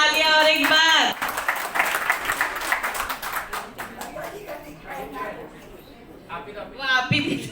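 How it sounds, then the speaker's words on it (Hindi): An audience claps for a senior citizens' group dance-drama performance, a steady patter of hands that fills the middle stretch, with a voice talking before and after it. "जोश के लिए जोरदार तालियां और एक बार।"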